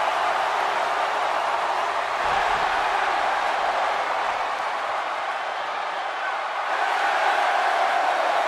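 Dense arena crowd roar from a WWE 2K17 wrestling match in Dallas, a continuous loud wash of cheering and shouting that swells slightly near the end, with no voices standing out.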